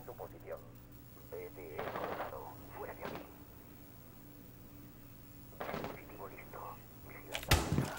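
Gunfire in Rainbow Six Siege: short bursts of automatic shots crack out in separate clusters, with faint clatter between them, and a loud final burst.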